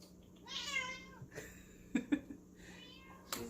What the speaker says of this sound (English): And my cat just keeps meowing.